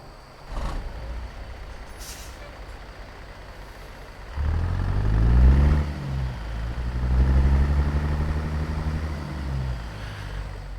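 Caterpillar 3406E 660-horsepower truck engine in American Truck Simulator, hauling about 72,000 pounds of crude oil, with a hiss of air brakes before the engine turns over and settles into a deep, loud rumbling idle.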